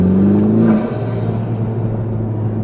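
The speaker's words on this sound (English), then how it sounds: "you can hear the blow off and the sort of unique induction noise coming from the Venturi inlet" Honda Civic Type-R FK2 turbo with a Venturi inlet, its loud engine drone easing off the throttle as a rising pitch fades, then a steady cabin rumble.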